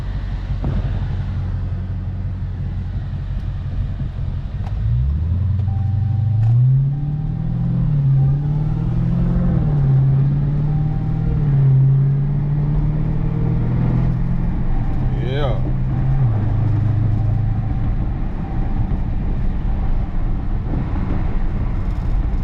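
Burble-tuned Dodge Charger SRT Hellcat V8 rumbling steadily up close at night, with a few swelling rises in engine pitch and muffled voices underneath throughout.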